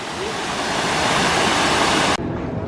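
Water pours down a wall and shoots up in front of it at an EPCOT fountain, a loud, continuous close-up rush of splashing that cuts off sharply near the end.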